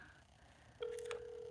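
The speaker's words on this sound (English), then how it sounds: "Let me video call Gregory." A phone rings for an outgoing video call, a steady electronic tone that starts partway through after a near-silent stretch, with brief higher chirps layered on at the start of the ring.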